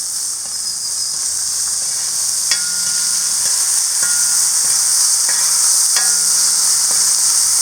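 Steady loud sizzling of chopped onions and green chillies sautéing in oil, with occasional clicks and scrapes of stirring against the pan.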